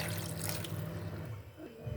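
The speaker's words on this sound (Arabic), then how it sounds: "نحط بقى شويه ميه صغيرين" Water poured in a small amount while preparing a breading marinade, a continuous close splashing hiss that eases slightly near the end.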